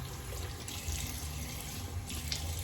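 Steady tap water runs into a sink for rinsing after a shave, a constant close splashing stream with small shifts in flow and no voices.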